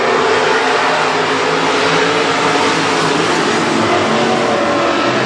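WISSOTA Midwest Modified race cars roar around Granite City Speedway in a loud, continuous, unbroken wall of engine noise.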